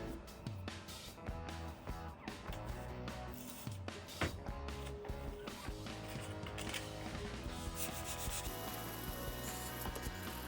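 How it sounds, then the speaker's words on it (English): Sandpaper rubbing over the steel blade of a handmade Santoku kitchen knife, a quiet, continuous scratchy rasp with repeated back-and-forth strokes. "So the more you sand, the nicer these knives will look."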